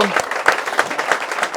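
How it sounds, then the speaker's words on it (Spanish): Congregation applauding at a Catholic Mass, a steady wash of clapping hands from many people filling the room, with a priest's voice speaking over it. "Démosle un fuerte aplauso a nuestro Señor Jesucristo."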